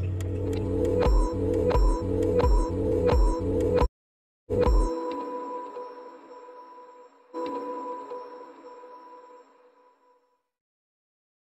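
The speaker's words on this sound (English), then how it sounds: "why the startup sound is low pitched" A glitching Alcatel Pixi 4 phone plays its startup sound at a low pitch: a series of rapid stuttering tones, a brief cutout, then sustained ringing notes that fade into silence; no talking.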